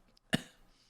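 A single short, sharp cough bursts out close to the microphone in an otherwise quiet room, with a brief trailing breath afterward.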